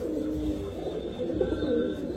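Pigeons cooing in a pigeon loft among fancy breeds such as silver, pankhi, military and racer pigeons, a steady run of low, throaty coos close by with no talking.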